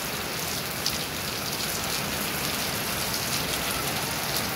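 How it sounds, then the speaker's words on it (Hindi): Heavy rain pours down in Karachi as a dense, unbroken hiss, loud and constant throughout with no voices. "बहुत ही तेज बारिश हो रही है,"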